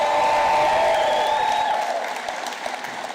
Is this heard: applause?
yes